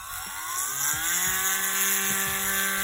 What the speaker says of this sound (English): I'm also going to drill a hole through this